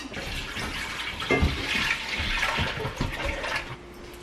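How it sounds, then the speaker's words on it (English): Half a gallon of goat milk pours into a big stock pot, a close, continuous splashing gush that swells and then settles over a few seconds. "after I put my half gallon of milk into my stock pot"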